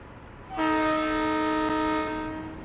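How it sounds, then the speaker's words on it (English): Metro-North train horn in the Train Sim World 3 simulator on the Croton-Harmon to Grand Central run, a single loud sustained multi-tone blast lasting about two seconds and then fading, with no talk over it. "And there's the horn."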